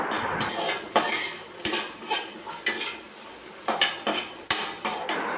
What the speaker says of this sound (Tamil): அடுத்ததாக அதே கடாயில் ஒரு பெரிய வெங்காயம் ஒரு பத்து சின்ன வெங்காயம் ஒரு பத்து பூண்டை போட்டு நல்லா வதக்கிக்கலாம்